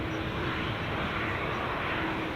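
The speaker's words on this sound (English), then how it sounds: "KLM's just on final." A KLM airliner on final approach to runway 24 at Edinburgh Airport gives a steady, broadband roar with a faint tonal whine, heard from a distance and holding constant throughout without any talk.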